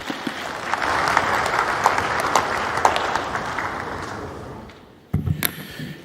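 Sustained applause from a conference audience at a high-level anti-corruption session in Ghana, dense steady clapping filling the room for about five seconds before stopping abruptly, followed by a brief burst of scattered claps and noise.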